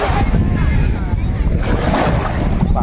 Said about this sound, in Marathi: बघा कसला मस्त लाटा येतात मित्रांनो,